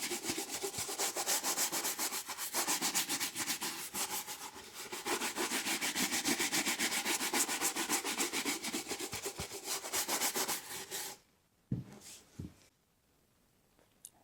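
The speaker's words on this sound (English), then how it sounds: "I'm going to give them a good brushing with this horsehair brush from Abbey Horn." Horsehair brush from Abbey Horn sweeping over rehydrated leather Carlos Santos wingtip boots, a steady close rubbing swish lasting about eleven seconds, then stopping with a couple of faint knocks.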